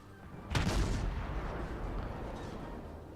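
A salvo from warship guns in a naval battle game, one deep booming blast followed by a long rumbling tail that fades slowly, with no talk.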